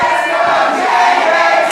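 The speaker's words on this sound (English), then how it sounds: "Crowds are getting behind Jaden." A wrestling crowd cheering for Jaden Quick at a live event, a loud continuous roar of many voices with shouts rising and falling.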